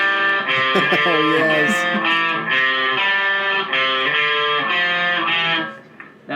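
Distorted electric guitar plays a riff through an effects unit, a steady run of chugging power-chord strokes that cuts off near the end, with a brief spoken interjection early on.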